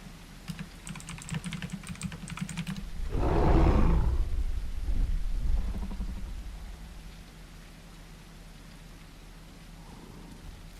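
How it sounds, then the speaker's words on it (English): A Dilophosaur roars in a dinosaur video game, a broad, loud cry swelling over about two seconds after a stretch of rapid keyboard typing, with a steady hum and patter of rain continuing underneath. "Oh, I hear a Dilophosaur."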